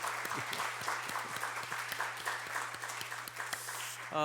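A church congregation at a Marine Corps chapel Sunday service applauds young junior officers, steady crowd clapping over a faint low musical hum, ending as a voice begins to speak.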